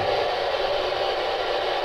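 A ghost-hunting spirit box radio hisses with an even, continuous wash of static, moderately loud and unbroken, with no voices.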